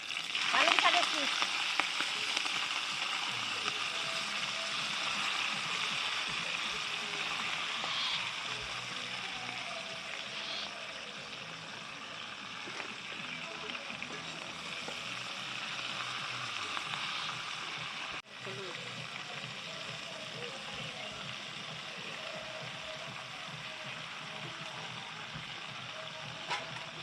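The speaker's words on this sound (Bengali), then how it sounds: "পাঁচ ফোড়ন আর শুকনো লঙ্কা দিয়ে দিলাম। এবার শীষগুলো দিয়ে দিচ্ছি," Spinach stalks fry in a wok of hot oil with five-spice seeds and dried chillies at an outdoor village picnic feast, giving a steady, dense sizzle that holds for nearly half a minute.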